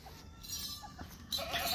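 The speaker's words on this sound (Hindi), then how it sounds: "ते ऐ ने उन्हां दियां बकरियां" Goats bleat faintly on a farm in Pakistan, a few short calls over soft background noise, with a louder bleat near the end.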